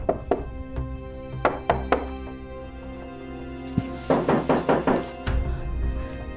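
Knocking on a house door in a Hindi TV drama scene, several short sharp raps in loose bursts, moderately close, over a background music bed.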